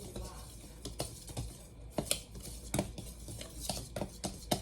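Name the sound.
whisking flour and salt together in a bowl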